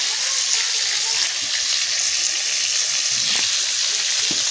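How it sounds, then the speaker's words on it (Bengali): A little water is poured into a spice paste of turmeric, salt, oil and pepper for a fish curry, a steady close gushing splash with no speech. "এতে একটু জল দিয়ে দিচ্ছি"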